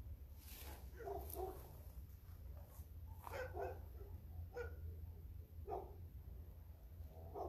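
Dogs bark in the distance on a dark night near a lagoon, several scattered yelps and barks in irregular clusters, faint and echoing over a low steady background hum, with no voices.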